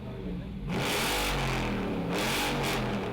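A Dodge 5.7 V8 engine revs loudly through an aftermarket exhaust in two strong surges, a deep, throaty roar close up.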